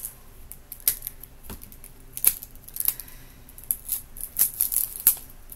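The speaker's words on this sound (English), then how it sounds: "you can open up the cards like that" Crinkly crackles and sharp tearing ticks of sealed wrapping being opened on a board game card deck, a close, uneven burst of small plastic rustles and snaps with no talking.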